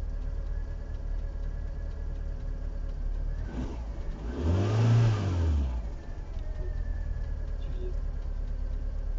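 A 2011 Fiat Grande Punto Evo LPG car engine, running on petrol, idles steadily, then revs up briefly in a rising and falling surge before settling back to a low idle.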